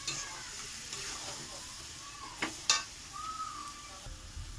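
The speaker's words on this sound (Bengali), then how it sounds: "সোয়াবিনগুলো দিয়ে দেওয়া হবে, সঙ্গে কষবে" Large soya chunks being stir-fried in a pan, a steady sizzle and frying hiss with occasional stirring scrapes close by, and no talk.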